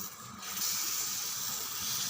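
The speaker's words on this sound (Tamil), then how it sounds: "நான் நெய் மட்டும் விட்டுடுறேன்." Ghee hisses and sizzles on a hot dosa griddle, a steady bright frying sound that swells after a brief start and holds close and even, with no talking.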